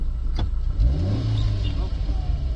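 A motor tricycle engine revs hard in third gear while pulling up a steep hill, a rising mid-pitched drone that swells loudly near the mic as people talk over it.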